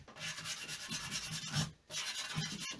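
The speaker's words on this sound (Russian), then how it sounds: "Снимаю царапины от более крупной наждачки." Very fine sandpaper rubbing over carved wood panel, a steady close scratchy hiss in back-and-forth strokes with a short pause midway, no voices.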